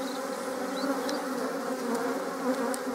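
Honeybees hum densely around an open beehive where two queens are present during supersedure, a steady, close swarm drone with individual bees buzzing past.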